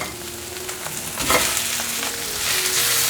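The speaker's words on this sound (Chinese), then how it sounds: "快速翻炒。 可以用筷子帮忙这样子拌炒，把白萝卜丝炒散。" Shredded white radish and carrot being stir-fried in a wok with soybean crumbles, a loud close sizzle with a burst of hissing and scraping as the food is tossed, no talk.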